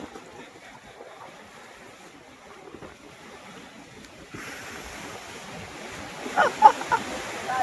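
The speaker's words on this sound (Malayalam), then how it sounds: "കായലാണ് ഇതിൻ്റെ തിര വരുന്നുണ്ട്" Waves on a backwater lake in strong wind: soft lapping water under a steady wind rush that grows louder midway, with a few closer splashes near the end.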